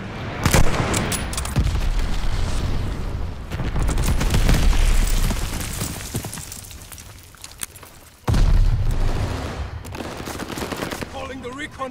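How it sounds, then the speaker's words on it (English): A glide bomber airstrike in Call of Duty on the Shipment map: loud bursts of gunfire and heavy booming explosions in waves, with a brief lull before a fresh, sharp volley near the end. "Glide bomber assist coming in."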